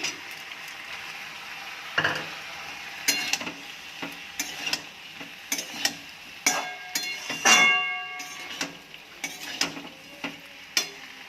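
Red lentils tipped into a pan of frying vegetables and stirred, with scraping and clinking of a utensil against the pan in irregular bursts over a soft steady sizzle, close up and with no talking.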